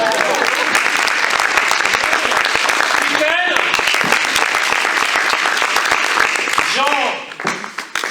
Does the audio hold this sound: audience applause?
yes